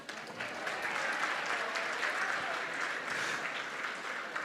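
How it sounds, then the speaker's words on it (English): Crowd at a fundraising gala applauds in a continuous, full wash of clapping, heard at a moderate distance and fairly soft, holding steady throughout. "And now, clap for yourselves."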